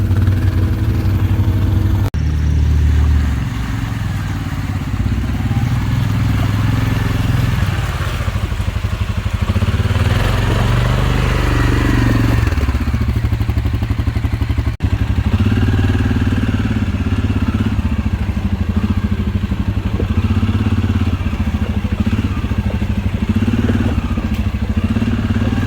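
A 2022 Suzuki KingQuad 750 AXi EPS or Can-Am Outlander ATV engine runs steadily throughout as the machine rides over rocky terrain, with continuous close mid-range drone, throttle swells and clattering from the rough ground.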